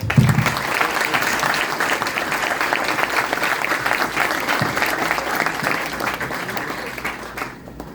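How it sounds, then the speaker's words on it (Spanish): Audience at an academic event on science policy in Mexico breaks into sustained, dense applause from many hands, holding steady for about seven seconds before tapering off. "yo creo que mínimamente un aplauso, ¿no?"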